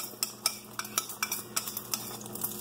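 Eggs frying in a pan being stirred, heard as quick clinking and scraping of a utensil against the pan in an uneven rhythm, close and fairly quiet over a faint background hum, with no talking.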